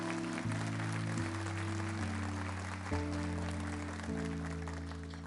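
A church congregation applauds in worship, steady clapping spread across the room and held under sustained organ or keyboard chords that shift pitch every second or so, moderately quiet and distant throughout.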